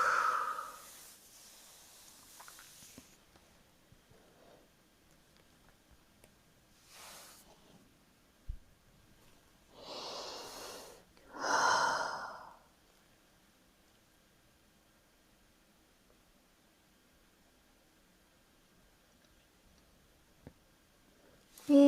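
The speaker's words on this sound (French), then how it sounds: "et on expire" Two long, soft exhalations from a person easing deeper into a beginner yoga flexibility stretch, breathy and close, set apart by quiet pauses, with a brief fainter breath before them.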